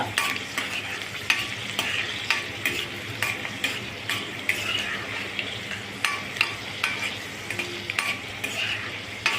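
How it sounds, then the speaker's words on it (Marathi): Spicy shev fries in hot oil as a steady close sizzle, with regular scraping clinks from a stirring utensil against the pan throughout. "अगदी लाल होजेपर्यंत तळून घेणे।"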